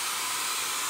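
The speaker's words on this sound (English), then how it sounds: "you can take your hair dryer to it and just give it" A hair dryer blowing across drawing ink on paper, giving a steady, loud, breathy roar of air with a constant motor tone and no pauses throughout.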